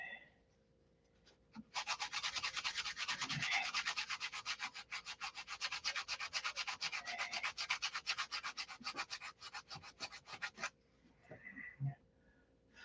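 Someone sands a model aircraft part by hand. Rapid, even back-and-forth rasping strokes run steadily for about nine seconds, close and fairly loud, and a few quieter scrapes come before and after the main stretch.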